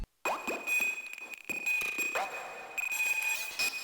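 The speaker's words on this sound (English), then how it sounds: "XS Retro Computer," Hive synth preset XS Retro Computer plays a retro computer effect of quick chirpy blips, pings and falling bleeps over a steady high tone, moderately quiet and busy.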